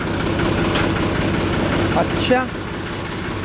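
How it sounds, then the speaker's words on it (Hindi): A tractor engine idles steadily in a loud, continuous low rumble. A voice says a word briefly over it. "बंद कर देंगे, तो ट्रैक्टर की आवाज़ टाइट हो जाती है।"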